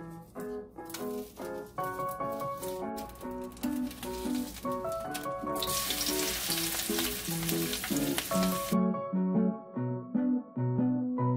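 Ground beef with spices sizzles and fries in a pan, a dense continuous crackle with stirring scrapes, while music plays over it.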